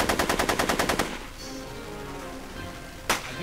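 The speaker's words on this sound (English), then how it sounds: "Are you shooting at me?" Gunfire in a Back to the Future video game shootout, a rapid burst of about ten shots in quick succession, then a pause and one more sharp shot, close and without talking.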